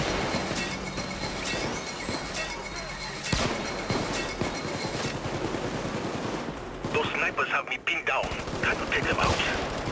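Sniper and automatic gunfire in an online shooter game, with sharp cracks and bursts of shots over a busy battle bed, loud and close, with some clattering near the end.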